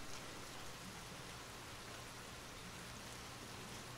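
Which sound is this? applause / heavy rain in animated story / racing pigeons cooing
heavy rain in animated story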